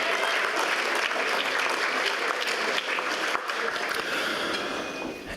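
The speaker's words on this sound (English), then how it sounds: "A big round of applause once again for Molly" Audience applause fills an awards night for a netball and football league, a dense, steady wash of clapping from a large crowd that holds strong throughout and eases slightly toward the end.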